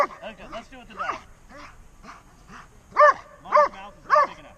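A dog barks three times in close succession during a protection-sport bite training session with a bite bar, the loud barks following a stretch of talk, with voices heard around them.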